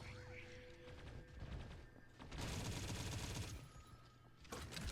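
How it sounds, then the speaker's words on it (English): Gunfire from the mobile shooter T3 Arena, dense bursts of rapid shots and impacts crackling through busy game effects, loud and continuous with a brief lull midway. "he heard the gunshot, so we can't even play it"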